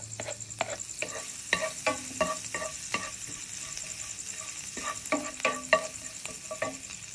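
Garlic, ginger and green chili fry in a pan, a constant soft hiss beneath repeated sharp clicks and scrapes of a utensil stirring, with irregular close taps throughout and no talking.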